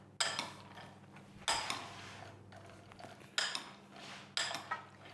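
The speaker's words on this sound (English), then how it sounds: "we want to give this a really good mix" Nuts being mixed with salt and oil in a bowl, with four loud scraping, clattering strokes of a utensil against the bowl at an unhurried rhythm, close up.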